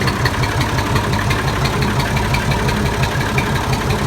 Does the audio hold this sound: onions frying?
no